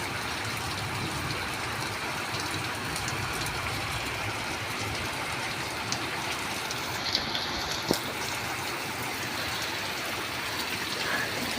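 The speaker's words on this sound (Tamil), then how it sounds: "பாருங்க, பயங்கரமான மழை, சரியான மழை, பயங்கரமான காற்று." Heavy rain pours in a dense, constant roar with gusty wind mixed in, steady throughout and close by.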